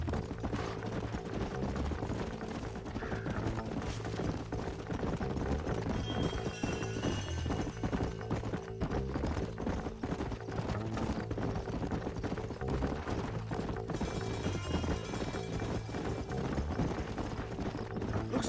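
Horses gallop in the Western video game Red Dead Redemption, a continuous rapid clip-clop of hooves over an ambient game soundscape with no speech.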